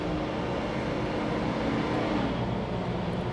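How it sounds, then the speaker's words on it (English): A truck passes outdoors, producing a steady, fairly loud low engine rumble and road noise that fills the whole stretch without any talking. "wait for this truck to go by."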